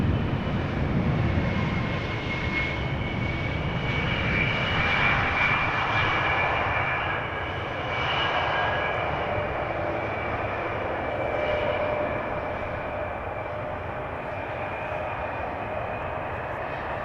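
An Embraer 175 jet arriving at Amsterdam Schiphol produces a steady, loud, broadband engine roar with a faint whine, holding for the whole stretch and easing slightly toward the end.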